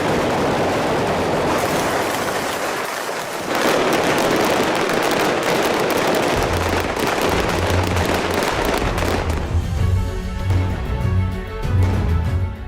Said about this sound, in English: After they've emptied their clips, James Bond says, right, now it's my turn